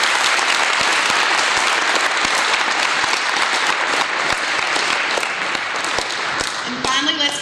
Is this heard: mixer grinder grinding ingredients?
no